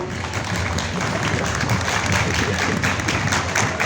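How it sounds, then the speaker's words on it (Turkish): Dense, steady applause from a concert crowd, sustained at an even level for the full few seconds with no pauses or voices rising above it. "Şöyle güçlü bir alkış alıyorum"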